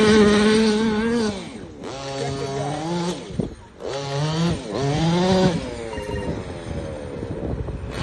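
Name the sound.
gas-powered Losi RC car engine running through grass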